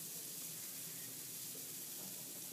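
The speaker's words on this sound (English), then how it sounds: "You can hear it sizzle, right?" Waffle batter sizzles on a hot waffle iron, a faint, steady hiss of frying held at an even level without breaks, heard alone with no voices.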